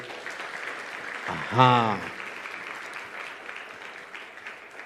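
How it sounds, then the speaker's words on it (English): An audience at a foundation conference with a head of state present gives a round of applause, steady hall-wide clapping at moderate distance, with a brief spoken exclamation over it. "When I say piga makofi tafadhali, it means a big round of applause."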